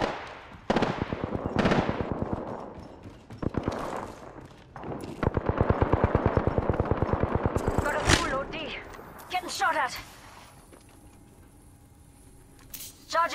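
Gunfire in the battle royale shooter Apex Legends: several rapid automatic bursts, one long sustained stream of shots in the middle, loud and close, followed by quieter game effects and chimes.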